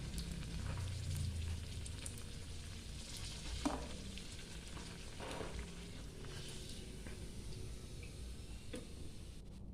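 Rava puri frying in hot oil, a steady close crackling sizzle with scattered pops and bubbling, heard alone with no talk.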